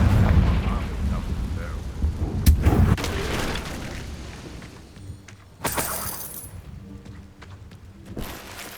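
A Confringo fire spell explodes in Hogwarts Legacy with sharp cracking, shattering bursts and a booming blast that rumbles and fades, followed by a second bright crack later on.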